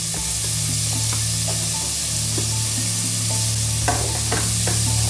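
Beef sears in a lentil pot with no oil, a low steady sizzle beneath repeated scraping stirs and light knocks, with a constant hum running throughout.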